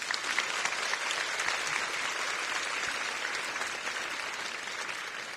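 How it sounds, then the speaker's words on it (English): Audience applause for law enforcement at a talk on child exploitation and sex trafficking, a steady wash of many hands clapping that holds its level from start to finish, with no voice over it. "Let's give them another round of applause."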